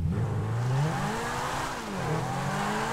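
Stock Zentorno supercar engine in GTA 5 on a Nürburgring GP circuit, loud and close, revving up and down through gear changes with a whining, rising and falling tone, no voices.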